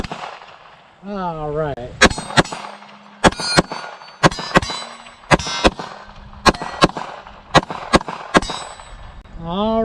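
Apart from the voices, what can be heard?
9mm pistol shots hitting small steel bowling pin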